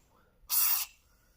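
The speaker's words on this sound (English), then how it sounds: "Okay, we're just going to try to spray it. This is white lithium." A single short burst of white lithium grease aerosol spray hissing for about a third of a second, close and fairly loud, with quiet surroundings before and after.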